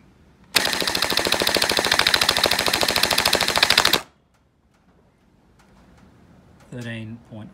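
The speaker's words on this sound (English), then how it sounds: "now we'll do the rate of fire" A JM SCAR V2 gel blaster rattles off a loud, rapid full-auto burst lasting about three and a half seconds, then stops abruptly; near silence follows, and a short voice comes in at the end.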